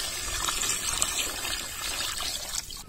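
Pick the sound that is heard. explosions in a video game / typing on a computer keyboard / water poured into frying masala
water poured into frying masala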